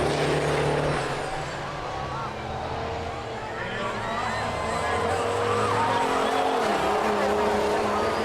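A big-rig race truck spins out on the South Sound Speedway oval, engines droning loud and continuous with tire squeal and skidding layered over the roar, while voices talk underneath.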